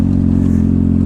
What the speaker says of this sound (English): The bike's got plenty of power. It's running like a beast.